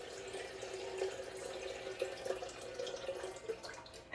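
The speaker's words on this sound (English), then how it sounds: "So then we have our shrimp that I forgot to drain, so we drain those." Water drains from cooked peeled shrimp into a sink, a faint steady trickle with small splashes and drips, heard close by and at low volume.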